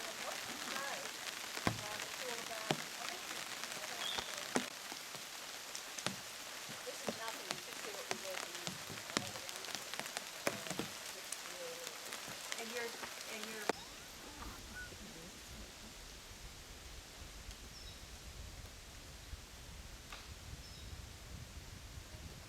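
Rain falls steadily in an Australian rainforest, a dense close hiss with heavier drops pattering on leaves and surfaces, easing to a softer, more even wash partway through.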